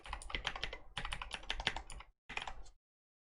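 Soft, muffled clicks from a Razer BlackWidow V3 Pro keyboard with Razer green switches, typed in two quick bursts and a short final flurry, close and fairly quiet.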